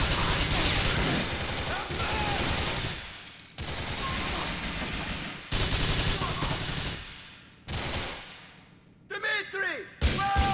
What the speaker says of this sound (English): It doesn't really help having all of them around shooting at us.